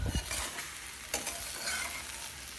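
A masala omelette fries in a pan with a soft, steady sizzle, quiet and close, with a couple of brief scrapes and taps.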